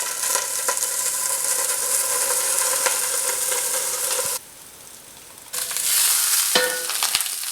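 Lion's mane mushroom sizzling loudly in a hot pan as it is pressed down, a steady bright crackling hiss that cuts out briefly and then returns with a few louder pops.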